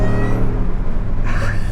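A supercharged 750 HP Shelby F150 pickup truck accelerates hard, its low engine rumble loud and close, with a rising note near the end.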